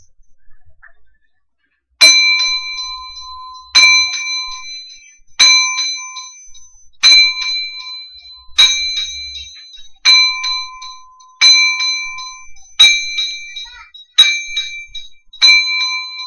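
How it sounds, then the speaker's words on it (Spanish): Ten ringing bell strikes toll in memory of a child at a boxing event, each a clear metallic clang spaced about 1.5 seconds apart with ringing decay, loud and alone with no talk. "10 campanadas en memoria del niño Yosafat Salvador Flores Rodríguez."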